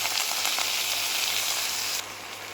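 Red amaranth leaves frying in a pan after onion, garlic and green chilies, a loud, even sizzle that drops suddenly quieter near the end, with no talking.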